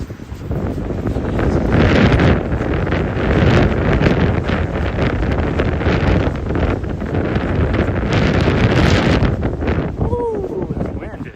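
Strong wind buffets the microphone in loud, continuous gusts during a chilly trail run on the Arizona Trail across the Kaibab Plateau, with footsteps and brief voices mixed underneath.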